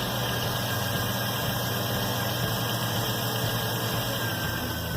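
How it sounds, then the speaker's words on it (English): A 2002 Jeep Grand Cherokee engine runs steadily at idle, with a cracked brake check valve adding a thin, constant whistle above the even mechanical hum, heard close and fairly quiet. "the check valve has some cracks in it and it's making a pretty good whistling noise when you crank it up"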